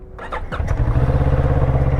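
A 2023 QJMOTOR SRK 700 motorcycle engine with stock exhaust cranks and catches, settling into a steady, fairly quiet idle with a low, even burble from the exhaust.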